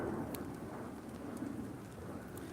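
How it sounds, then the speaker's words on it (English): Rain falls outdoors on a cloudy day as a steady, soft hiss of drops landing on surfaces, continuous and fairly faint throughout. "Yeah, it's raining."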